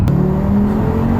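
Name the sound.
Audi TT RS stage 2 car accelerating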